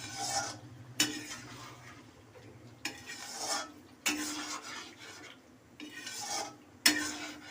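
A spoon scrapes and stirs paneer cubes in an oily pan for paneer butter masala, with sharp clanks against the metal and rasping sweeps in a slow repeating rhythm over a faint sizzle.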